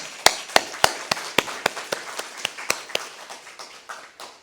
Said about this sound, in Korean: 우리 하나님 앞에 영광의 박수 올려드리십시다.